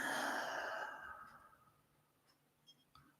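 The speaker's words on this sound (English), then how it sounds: "Again, inhaling in slowly, very controlled, very conscious breathing, inhaling in." One slow, controlled exhale during a breathing practice starts fairly strong and fades gradually over a couple of seconds into near silence, followed by faint small sounds.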